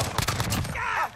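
A Beretta M93R fires in Call of Duty Modern Warfare in a quick run of close, punchy shots, followed by a brief tonal game sound as the burst ends.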